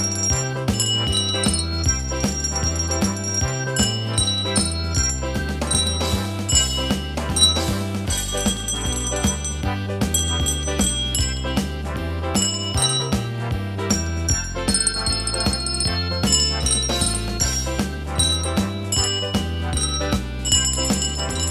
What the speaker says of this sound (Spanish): y esto es las campanas musicales